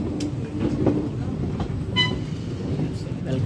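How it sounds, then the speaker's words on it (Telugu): A train stands at platform 2 of Rayagada railway station, a rumbling background of station noise with a short high tonal toot partway through, while a voice talks over it. "ప్లాట్ఫామ్ నెంబర్ 2 మీద అయితే ఏదో ట్రైన్ అయితే ఉంది."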